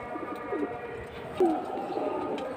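Pigeons coo softly at close range, a few low throaty calls rising over a steady background murmur of other birds.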